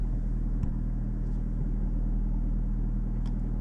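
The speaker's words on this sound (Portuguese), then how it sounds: "Esse é o motor a gasolina que foi ligado agora" The petrol engine of a Honda Civic hybrid runs to charge the battery, giving a steady, close, low idle rumble with a faint click or two and no talking.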